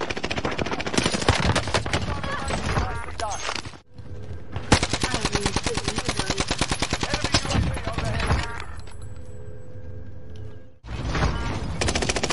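Rapid automatic gunfire from a shooter video game rattles in long, loud continuous bursts, broken by brief pauses, with a player's voice talking over the shots at times.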